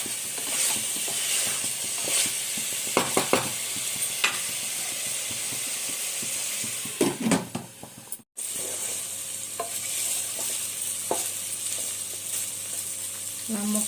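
Chicken for biryani sizzles and fries steadily in a pot, with intermittent scraping stir strokes and clinks of a spoon against the pan throughout, a brief dropout midway, no talking.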